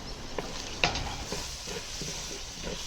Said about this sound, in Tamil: வெங்காயம் தக்காளி நல்லா வதங்கின பிறகு